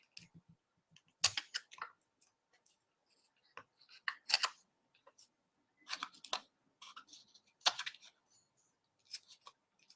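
Scissors snip through paper wrapped tightly with tassel thread in a quiet craft setting, a series of short, sharp crunching cuts spaced irregularly, close and clear.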